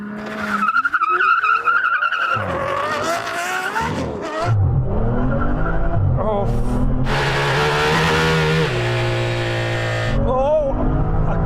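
Aston Martin cars launching in a drag race, loud engine revs rising and falling through gear changes, with tire squeal and roaring acceleration close by for the whole stretch, and voices underneath at times.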